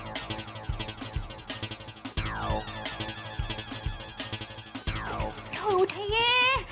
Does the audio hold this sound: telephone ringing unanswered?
yes